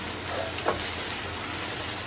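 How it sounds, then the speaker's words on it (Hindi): Paneer cubes with spices sauté in a pan over a medium flame, giving a quiet even sizzle with a light stir or clink near the start. "1 मिनट के लिए इसे सौते कर लेंगे"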